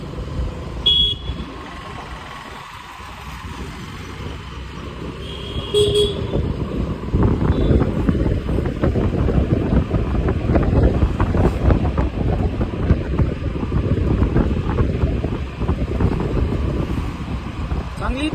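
A two-wheeler being ridden on a road, its engine running with heavy wind buffeting the microphone, louder and steady through most of the stretch, while people talk over it.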